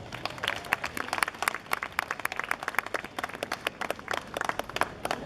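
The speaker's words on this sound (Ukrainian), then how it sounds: "Ваші оплески." A theatre audience applauds steadily, dense clapping filling the whole stretch at an even, moderately loud level with no voices.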